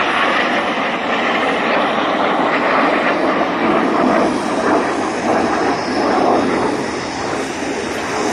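Red Arrows jets, the synchro pair, roar past inverted at an airshow at East Fortune, a loud continuous engine rumble swelling and holding as they pass overhead.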